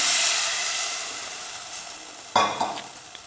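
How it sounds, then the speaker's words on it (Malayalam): A steady sizzle from a hot pan, then a sudden louder hissing burst as liquid hits the surface and crackles briefly before settling. "എന്നിട്ട് ഞാൻ വെള്ളം ഒഴിക്കുന്നു."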